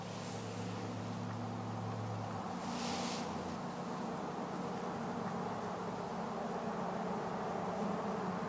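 Honeybees in an open hive during a midwinter fondant feeding give a steady, close buzzing hum that runs unbroken for the whole stretch, with no voices.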